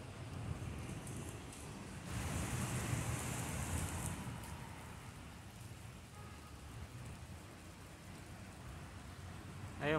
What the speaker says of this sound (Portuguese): Chuva aqui, despedindo aqui nessa tarde chuvosa.